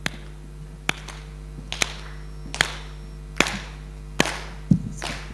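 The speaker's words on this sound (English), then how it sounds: "please give them the chwa clap" An audience at a forum gives the chwa clap, a Ugandan royal clapping style: sharp, loud unison claps spaced evenly about once a second, with short echoes in a hall.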